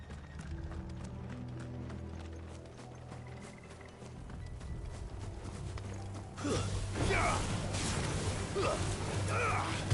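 Horses' hooves clip-clopping in the video game Final Fantasy XVI, a continuous run of hoofbeats under game sound that grows louder and busier partway through.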